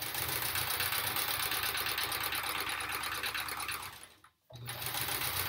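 A sewing machine stitching fabric for string-piecing a quilt block, a loud, close, continuous rapid whirring hum that stops briefly near the end before starting up again.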